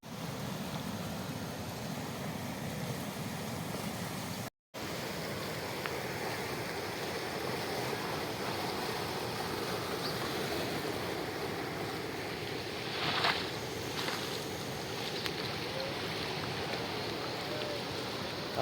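Rough, stormy sea surf crashes continuously near a fishing harbour, with waves washing in and wind buffeting the microphone, one brief dropout early on and no talk.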